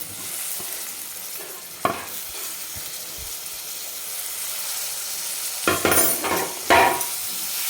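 Chopped tomato stirred into a frying cowpea and potato dry bhaji, with a steady low sizzle broken by several sharp spoon scrapes and clatters against the pan, loudest toward the end.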